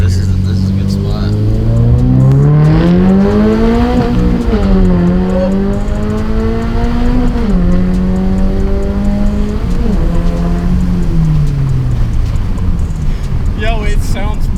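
A Subaru BRZ with an aftermarket exhaust revs up and down repeatedly, its loud raspy engine note rising and falling in pitch for several seconds, close and continuous.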